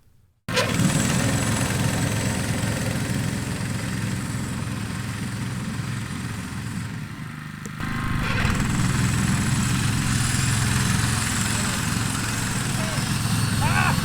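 A lawn mower engine runs while scalping a lawn at a 0.6-inch cut height. The loud, steady drone starts abruptly, dips slightly near the middle, then resumes at full strength.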